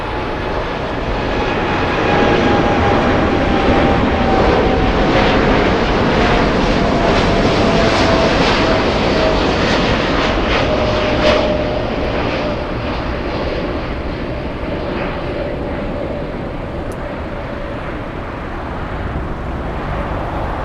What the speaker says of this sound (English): Big 747 flying all the way to Seoul